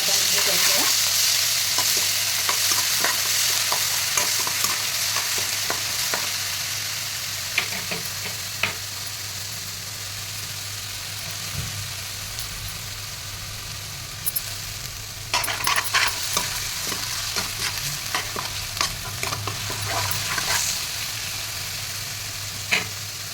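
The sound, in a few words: chili, ginger and garlic frying and stirred in hot oil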